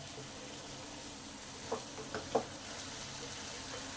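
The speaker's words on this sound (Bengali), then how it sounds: "এই আলুর সঙ্গে ক্যাপসিকামগুলোকে ভালো করে নেড়ে নিলাম" Fried capsicum being stir-fried with potatoes in a pan, a faint steady sizzle with three quick scraping stir strokes near the middle, quiet and close.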